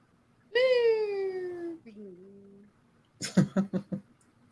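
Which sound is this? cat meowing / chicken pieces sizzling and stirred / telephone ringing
cat meowing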